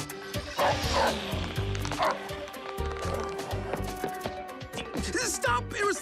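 Small cartoon robot dogs bark and yip excitedly in a lively back-and-forth, with whimpers mixed in, over busy background effects and music.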